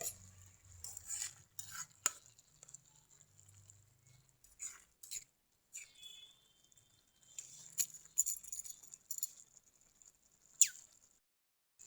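Fish pieces going into a curry in a pan and being stirred, giving scattered scraping and clinking of a utensil against the pan, with a faint sizzle in between and no talk.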